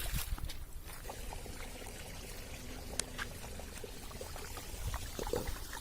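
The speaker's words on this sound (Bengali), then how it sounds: "ওই আল্লাহ, কত পানি, একেবারে পাইপ ভরে ভরে আসতেছে।" Water pours in a steady, faint trickling stream from a pipe outdoors in a village, with a low continuous splashing and no talk.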